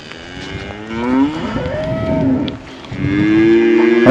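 A skinny Brangus-type neighbor's cow on a small cattle farm lets out loud, close, drawn-out moos, two long calls rising and falling with no talk.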